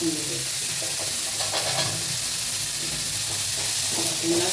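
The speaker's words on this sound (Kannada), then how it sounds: "ಫ್ರೈ ಮಾಡಿ." Vegetables frying in a pan for vegetable pulao, a loud dense sizzle with intermittent stirring sounds, steady throughout and close up.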